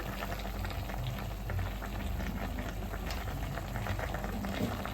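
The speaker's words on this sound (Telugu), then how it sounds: "మటన్ అయితే స్టవ్ పైన అయితే పెట్టేస్తామండి. ఇప్పుడైతే ప్రజెంట్ ఇది అయితే కాస్త వేగాలి, కాస్త మొత్తం పూర్తిగా ఉడకాలి." Mutton curry with turmeric cooks in a pot on a stove, a steady close bubbling and sizzling that runs continuously, with no talking over it.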